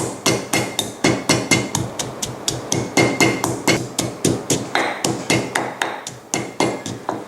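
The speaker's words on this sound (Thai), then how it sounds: "หลังจากที่เราโขลกกระเทียมรากผักชี และพริกไทยเรียบร้อยนะคะ" Garlic, coriander root and pepper are pounded in a mortar with a steady series of sharp, close thuds, roughly four strikes per second, alone without talk.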